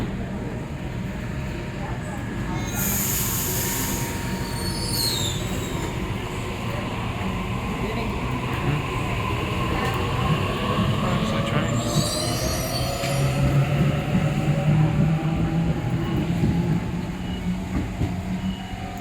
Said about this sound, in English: And arrived on platform number 1 is Waratah Series 2 set B2 on a City Circle service.